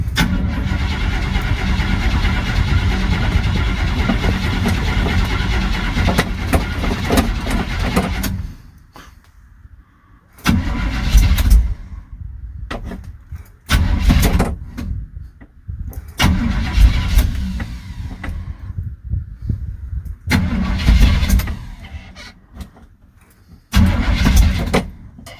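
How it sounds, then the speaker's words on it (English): Cold start attempts on a 1977 Chevy C10 truck with a 454 big block, headers, glass pack mufflers and a Quadrajet carburetor without a choke: a loud, close engine rumble cuts out, then roars back in repeated bursts between quiet gaps. "C10 with a 454 big block. It's got headers and some glass packs on it, and it can be tricky to start, especially cold."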